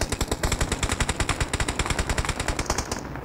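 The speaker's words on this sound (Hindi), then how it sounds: "ये कौन गोलियां मार रहा है" Automatic gunfire from the PUBG Mobile video game rattles out in a rapid, even stream of sharp shots, loud and continuous, stopping abruptly near the end.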